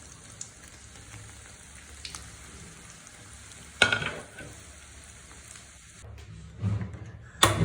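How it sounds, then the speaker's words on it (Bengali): Bread slices frying in a pan, a soft steady sizzle with occasional louder clatters and scrapes from handling near the end, no talking. "বাকি টুকরোগুলো ওইভাবে ভেজে নিব।"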